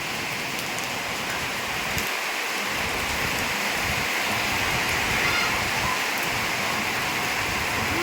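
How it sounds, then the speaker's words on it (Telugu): Steady, dense rain pouring down, a continuous broadband hiss of drops hitting surfaces with no pauses. "వర్షం వస్తుంది"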